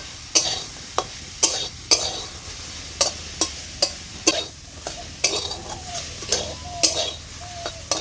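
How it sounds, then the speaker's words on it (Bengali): Yardlong beans frying in a pan with salt and turmeric: a constant hot sizzle broken by sharp, regular scrapes and clinks of the stirring utensil, close and loud, about every half second. "সব কিছু নেড়ে চেড়ে বরবটির জলটাকে আমি ভালো করে শুকিয়ে নিচ্ছি।"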